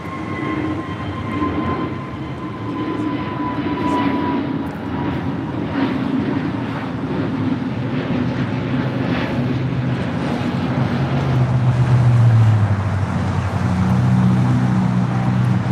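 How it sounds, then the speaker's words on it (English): An Avianca Airbus A320neo bound for Guatemala City takes off at LAX, with a steady broadband jet roar that swells and grows louder across the whole stretch, with no talking. "This is Avianca 641 taking off to Guatemala City on an A320 Neo."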